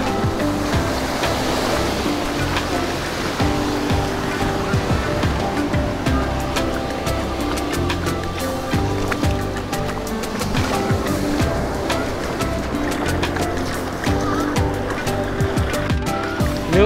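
Sea waves roll in at Katagai beach in Chiba, Japan, a steady broadband wash of surf that stays loud and continuous throughout, with no voices over it.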